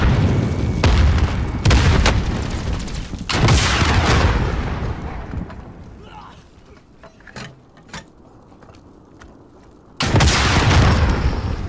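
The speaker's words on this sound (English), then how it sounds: "Chuck your grenades down there." Frag grenade blasts and gunfire in Call of Duty: Modern Warfare, loud booming bursts at the start, a quieter stretch with scattered sharp clicks and shots, then another heavy explosion near the end.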